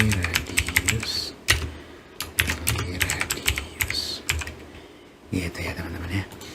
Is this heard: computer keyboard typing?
yes